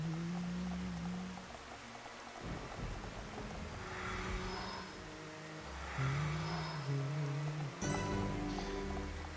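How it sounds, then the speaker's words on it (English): Steady rain hisses under low rumbling tones in the video game Xenoblade Chronicles: Definitive Edition, with soft intermittent swells and a brief sharper burst near the end. "Just because it's raining."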